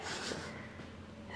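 A single deep breath during a hip rotator mat exercise, a close, airy inhale and exhale lasting just over a second, with no speech.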